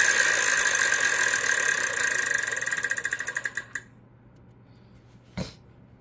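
The Wheel of Fortune game show wheel is spun, its pegs clicking rapidly at first and then slowing into spaced ticks before it stops, followed by a single sharp hit a moment later.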